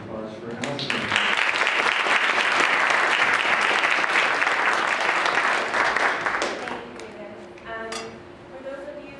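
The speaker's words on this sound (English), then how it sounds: "So please give me a round of applause for Allison." Sustained audience applause for Allison Brant at an NYU Steinhardt evening event, a dense steady clapping that fades toward the end as a voice begins speaking over it.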